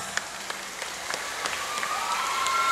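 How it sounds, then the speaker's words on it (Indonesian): Audience applause at a school Maulid Nabi commemoration at SMA Negeri 1, a fairly faint, sparse patter of clapping with scattered louder claps, steady over a few seconds with a thin tonal whine in the background. "Tepuk tangan untuk kita semua"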